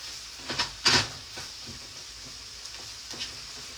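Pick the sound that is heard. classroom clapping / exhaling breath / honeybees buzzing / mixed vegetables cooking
mixed vegetables cooking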